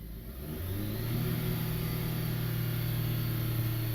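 A Dodge Caliber, Jeep Compass or Patriot engine with a faulty throttle body runs rough and stutters near stalling, a steady low mechanical drone with uneven pulses, close and fairly loud with no talk.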